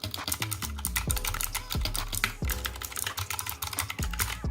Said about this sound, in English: It's the Razer Huntsman Mini